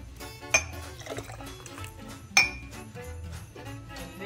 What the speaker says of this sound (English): pour the mixture into the glass.